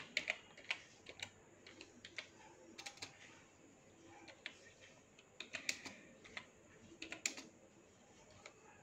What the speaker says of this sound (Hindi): सर्च बॉक्स में जाइए और टाइप कर दीजिए विंडोज़